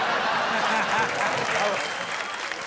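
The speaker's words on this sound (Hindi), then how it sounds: "जैसे ही भाषण समाप्त हुआ 10 ही पुरुषों ने ताली बजाना शुरू कर दिया।" A short burst of dense applause from a small group, steady clapping close by with a faint murmur beneath.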